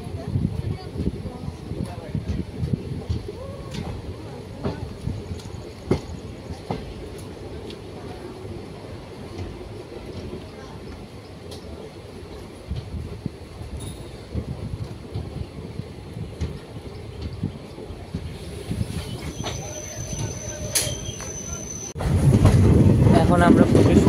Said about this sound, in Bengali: এখন আমরা প্রবেশ করছি মরিয়ানি জংশন রেল স্টেশন